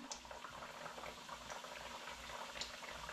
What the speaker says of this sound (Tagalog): Hala, ayan na nga. Kumukulo na.